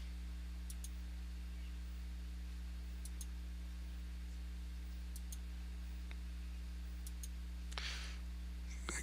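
Faint, sparse mouse clicks come at irregular intervals while targets are clicked in a shooter game, over a low steady electrical hum.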